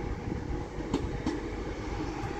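A Class 323 electric train on the Stoke-on-Trent to Manchester Piccadilly service at Stockport station on the West Coast Main Line, a steady low rumble of rolling wheels with a couple of sharp clacks over rail joints.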